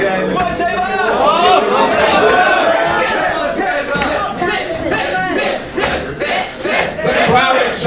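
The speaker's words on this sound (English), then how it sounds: "The crowd are chanting for the pit." A crowd at a ScotiaCon robot combat event chants in rhythm, loud and packed with many voices. A commentator's voice carries over the chanting.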